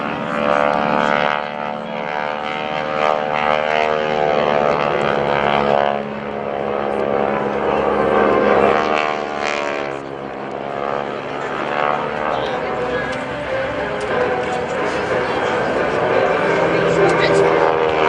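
Propeller aircraft of the GEICO Skytypers formation team fly at a Rhode Island Air National Guard airshow, producing a loud, sustained droning roar with rising and falling engine pitch as they pass, under continuous announcer commentary.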